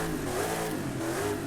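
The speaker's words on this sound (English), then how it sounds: "And then the racing V8." Racing V8 engine fitted to a Brabham BT62 in Forza Horizon 5, revving with a steady, continuous mid-pitched roar and rising tonal sweeps throughout, close and loud, with no speech.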